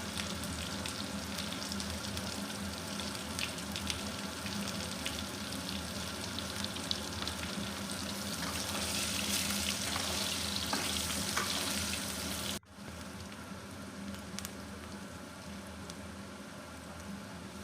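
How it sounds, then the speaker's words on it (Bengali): Potatoes fry in oil with a continuous bubbling crackle that swells slightly midway, then cuts briefly and resumes at a somewhat lower level, steady and close with no one talking. "আলুগুলো হালকা লাল করে ভেজে নেবো আগে।"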